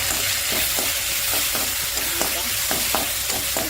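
Asafoetida and curry leaves frying in coconut oil, stirred with a spoon: a dense steady sizzle broken by regular, evenly spaced scraping strokes, close and alone.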